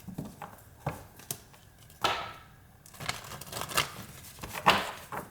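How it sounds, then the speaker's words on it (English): A deck of tarot cards is shuffled, giving soft irregular riffles, slaps and papery scrapes, close and fairly quiet, with a denser flurry in the second half and no talking. "One more shuffle."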